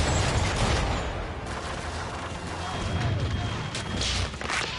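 Ship cannon fire in Assassin's Creed III Remastered comes as a dense, rumbling barrage of booms and crashes, loud and continuous throughout.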